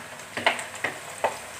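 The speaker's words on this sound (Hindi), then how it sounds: "अच्छी तरह मिक्स करते हैं तो दो मिनट वास्ते भुन लें" Onions with ginger-garlic paste stirred in a frying pan, three short scraping strokes of a spoon against the pan over a low, steady sizzle, close and fairly quiet with no talking.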